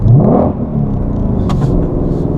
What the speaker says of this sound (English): some people will rev it here.